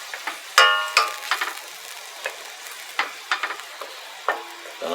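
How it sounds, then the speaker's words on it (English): Butter and lemon juice pan sauce for halibut bubbling and reducing in a pan, with soft sizzle and scattered sharp clinks and scrapes of stirring, moderately close and alone. "we'll just let this reduce on down, y'all"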